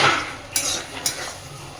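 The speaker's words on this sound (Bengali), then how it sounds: "খুব সুন্দর করে ভাজতে ভাজতে যাতে একটু জল না থাকে সেইভাবে সুন্দর করে শাকটা ভেজে নেব।" Red spinach greens stir-fried in a pan, with a soft, close hiss broken by two distinct metallic clinks of a spatula against the pan.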